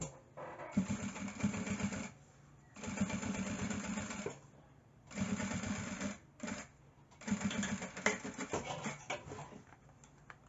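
A sewing machine stitches a topstitch seam on an insulated lunch bag in four or five short rapid bursts, each one a close, buzzing run of needle strokes separated by brief pauses.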